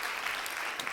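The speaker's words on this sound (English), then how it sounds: "I think that deserves an applause." A brief burst of applause, a dense even patter of clapping hands at moderate level lasting about a second.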